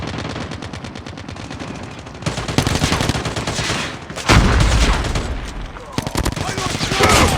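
Gunfire in a shooter video game, rapid automatic bursts crackling in dense streams with heavier booming blasts partway through, loud and close throughout.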